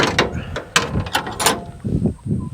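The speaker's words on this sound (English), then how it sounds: "engage the ratchet and start tightening down my load" A ratchet strap tie-down being tightened over a load: a few sharp, close mechanical ratcheting clicks and clanks in quick uneven succession.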